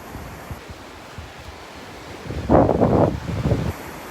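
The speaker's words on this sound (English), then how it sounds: "A little breezy." Breezy wind blowing across a beach as a wedding is being set up, a steady rush of gusting air with a louder surge in the middle, no one speaking.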